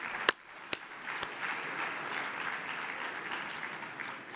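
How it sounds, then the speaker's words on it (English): An audience at a winter meeting on childhood obesity prevention and environmental health applauds, giving steady, moderately distant clapping that holds throughout after a couple of sharp knocks at the start. "Please join me in giving him a round of applause."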